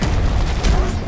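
A grenade from Deep Rock Galactic goes off as a loud, dense boom with a heavy low rumble, all within about a second.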